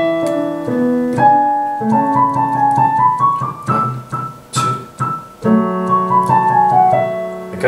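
Piano playing a Grade 4 Allegretto, a moderate, close melody line over steady lower notes, played alone with slight hesitations.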